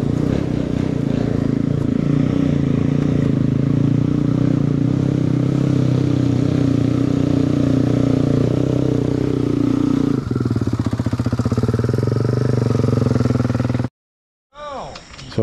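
A close, loud motorcycle engine drones and revs continuously on a forest trail, with rattling clatter and a drop in pitch near the end before cutting out; a voice is faintly present.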